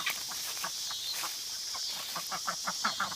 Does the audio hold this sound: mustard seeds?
no